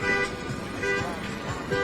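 Car horns honk at a street protest outside a US Bank in Minneapolis: repeated tonal toots that rise and fade over a constant crowd-and-street murmur, with faint voices mixed in.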